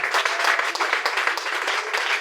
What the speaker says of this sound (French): Acclamez Jésus.